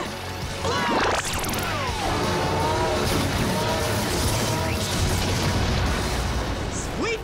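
Energy blast attack explosion from a Power Rangers action show: a loud, sustained burst of crashing, booming effects with whooshing streaks that fill the whole clip, with voices shouting over it.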